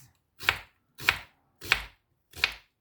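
Onion being finely chopped with a knife on a board, four crisp evenly spaced chops close up, each a sharp thud with silence between.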